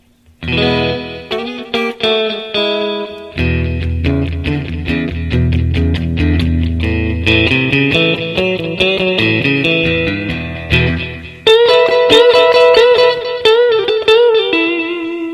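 Frank Stallone Tigris electric guitar on the combined neck and middle pickups with a reverse-wound, hum-cancelling middle coil, played clean with echo through a Blues Cube amp; glassy strummed chords and picked melodic lines ring out with trailing repeats, no voices.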